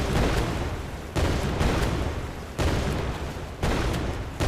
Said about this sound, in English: the player simply has to hold down the left mouse button to constantly fire at the mouse location